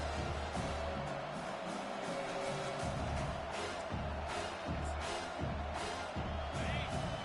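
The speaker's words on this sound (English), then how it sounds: "This crowd, full throat, splitting the eardrums and letting them know it's going to be a long day" A football stadium crowd roars and cheers at full throat, a dense sustained wash of voices with a commentator talking over it.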